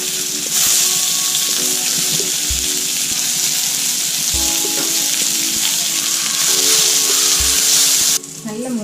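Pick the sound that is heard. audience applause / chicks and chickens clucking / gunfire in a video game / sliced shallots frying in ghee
sliced shallots frying in ghee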